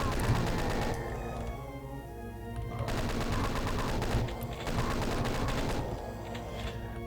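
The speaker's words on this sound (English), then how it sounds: "just chain gun our way through this narrow hallway" Rapid, continuous chain gun fire from the video game Doom 2, a loud, dense stream of shots in a narrow hallway that barely pauses, with faint game sounds underneath.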